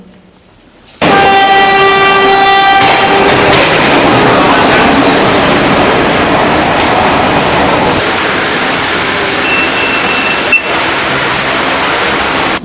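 A train at a railway station in Gwalior, India, gives a loud, sustained horn blast, then a heavy rolling rumble as it runs close by, steady and unbroken to the end.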